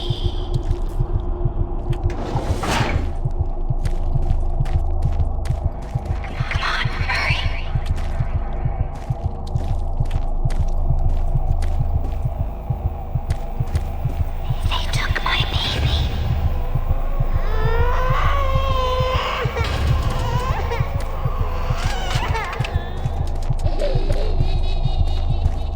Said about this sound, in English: this little heartbeat sound means that we picked up some adrenaline